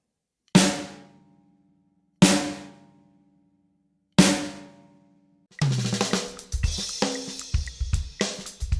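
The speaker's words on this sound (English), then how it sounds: "This is played by hitting the center of the batter head." Three power center strokes strike the middle of a snare drum's batter head, each a sharp, ringing crack left to fade, then a quick run of repeated strokes follows, loud and alone.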